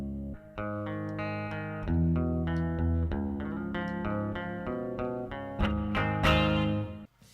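An electric guitar plays a sequence of plucked notes and chords through effects, sustained and slightly distorted, with no talking.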